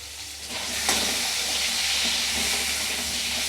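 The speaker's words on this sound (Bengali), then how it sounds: "হলুদ দিয়ে আলুটাকে ভেজে ভালো করে আমি ভেজে নেব" Potatoes seasoned with salt and turmeric fry in hot oil, giving a steady close sizzle and hiss with a brief stir-like rattle near the start.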